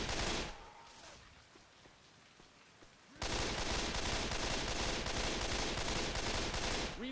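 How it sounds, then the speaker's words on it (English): Gunfire in the zombie shooter Left 4 Dead 2, a sharp burst at the start, a quieter lull, then a loud continuous stream of rapid automatic shots filling the rest of the clip. "I'm gonna shoot everywhere."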